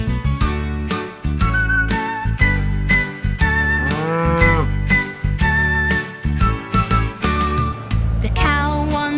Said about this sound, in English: The cow on the bus says moo, moo, moo